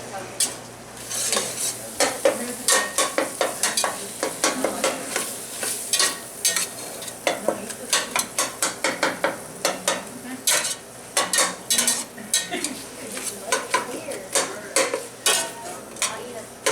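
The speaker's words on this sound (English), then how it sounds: "when you cook jalapenos in butter, it doesn't just keep the spice on the jalapeno, it actually soaks that spice into the butter" Jalapenos cook in butter in a pan, with a continuous sizzle under repeated scraping and stirring strokes of a utensil against the pan, close and fairly loud.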